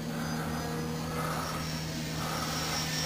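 A Nitroplanes Sky Trainer 182 RC airplane flies overhead, its engine producing a steady, continuous drone with a constant hum that holds throughout without breaks.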